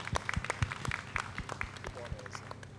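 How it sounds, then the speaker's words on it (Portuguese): Scattered applause from a conference audience for three presenters at the close of a panel session, with sparse, uneven claps and a voice talking over them. "Eu vou pedir uma salva de palmas para os 3 apresentadores."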